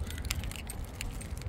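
Keys jangle and click while locking the rear canopy door of a 2022 Toyota Hilux SR5 ute, a brief close metallic rattle with a few sharp clicks over low background rumble.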